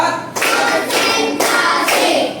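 A group of participants at a teacher training session claps together in counted bursts, three or four loud sharp rounds of clapping in steady rhythm with short pauses between.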